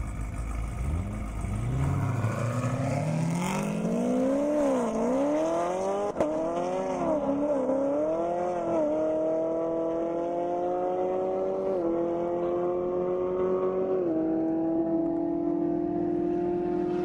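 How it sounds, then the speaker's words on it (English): A Chevrolet Camaro ZL1 blasts down an airstrip on a high-speed run, its engine loud and close, revving up steadily through several gear changes with rising, stepped pitch and no talk over it. "John Conway, Zach Moore in that ZL1"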